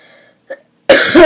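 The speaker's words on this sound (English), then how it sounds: "Sorry, I have a cough right now." A single sharp cough, close and loud, followed a moment later by a harsher, longer coughing burst.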